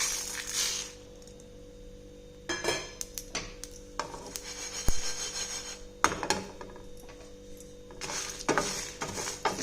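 Red chilies and coriander seeds dry-roasting in a pan for a village-style fish curry, with intermittent scraping and stirring clatter of a spoon against the pan in short bursts, fairly close.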